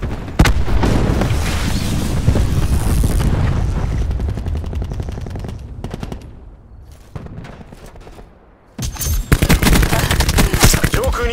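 Cluster grenade blasts and rapid gunfire in Call of Duty Black Ops 4, a dense, loud barrage of bursts and booms that thins and quiets briefly before heavy firing resumes.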